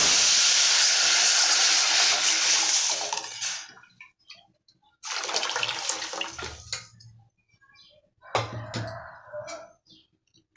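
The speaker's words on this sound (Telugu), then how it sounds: "ఇప్పుడు కలిపి పెట్టుకున్న రసం పోసేయాలి ఇందులో" Mixed rasam for Rayalaseema pappu charu hits a hot pan with a loud, steady sizzling hiss that fades after a few seconds. Two shorter bursts of bubbling sizzle follow, with quiet stretches between them.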